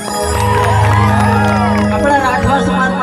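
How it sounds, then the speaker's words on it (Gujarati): A crowd at a live folk music stage show by a singer and a troupe of performers cheers and whoops over a sustained roar, with a loud voice carrying above the noise. "એમના માટે જોરદાર તાળી."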